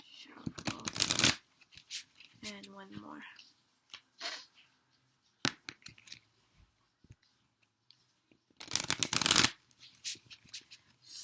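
Cards riffle and shuffle in several quick bursts, with loud flurries near the start and end, and a person speaks briefly between them.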